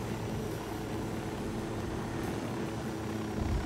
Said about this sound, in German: Lass den Heli mal eintauchen kurz.